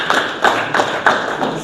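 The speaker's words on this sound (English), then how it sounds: "We can clap for him." A small audience at a stakeholders meeting in Uganda claps in a few distinct, fairly close bursts, each a short cluster of hand claps with brief gaps between them.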